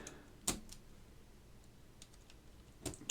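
Keycaps are pressed onto a Baron Boards BP-One keyboard with Alps SKCM Orange switches: two sharp plastic clicks a couple of seconds apart, with faint ticks between, quiet and close.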